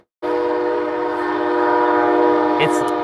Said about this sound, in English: And yeah, that's a train.